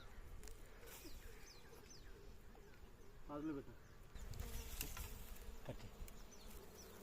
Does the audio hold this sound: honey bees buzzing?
yes